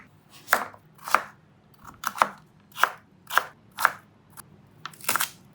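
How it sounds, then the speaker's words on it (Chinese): A knife chops ingredients such as shrimp, scallion and chili on a cutting board for a seafood pancake, with crisp, evenly spaced strokes about twice a second, close and clear with no talking. "下面切我们的配料。"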